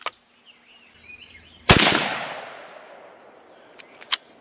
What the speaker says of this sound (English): Let's shoot a second shot.